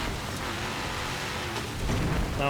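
Rain hisses steadily during a race in Forza Motorsport 7, a broad continuous wash with low rumble beneath, swelling slightly louder near the end, without any voices.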